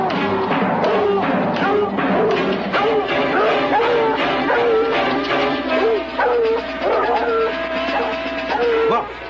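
Several dogs bark, yip and whimper in a 1981 horror film with Portuguese dubbing, a near, loud and busy stretch of overlapping barks that carries on almost without pause.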